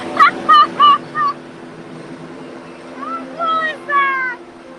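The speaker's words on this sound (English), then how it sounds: "here to help us out is our stunt bird, Calypso." A stunt bird at a live theme-park show at Universal Studios Florida gives several loud, harmonic calls in two bursts, a quick run of squawks and then a second group a few seconds later, over a steady background hum.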